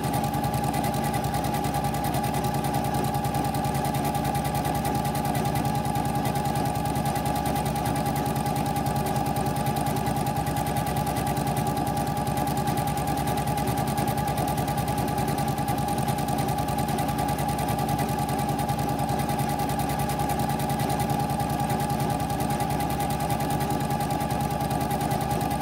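A Janome M7 Continental sewing machine stitching a quilt label, a continuous fast mechanical whir and rattle, loud and close, running unbroken throughout.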